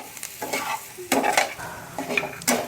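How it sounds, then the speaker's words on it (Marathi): Bitter gourd with spices frying in a pan, a soft sizzle punctuated by several quick scraping stirs, close and clear with no voices. "सगळे मसाले ना त्या कारल्याला लागले पाहिजे एकदम व्यवस्थित, ते सगळं फ्राय झालं पाहिजे"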